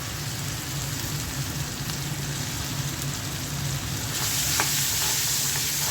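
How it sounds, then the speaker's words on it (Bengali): Shrimp fry with spices in a hot pan, a loud, continuous close sizzle like rain on a surface that swells slightly near the end, with no voices. "চিংড়ি মাছটাও মশলার সাথে ভেজে নেব।"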